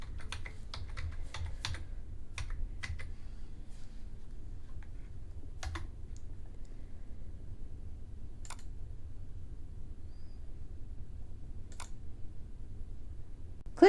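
Computer keyboard typing while setting up folders for a data analysis lab, with short bursts of key clicks clustered early, then sparse isolated taps over a low steady room hum.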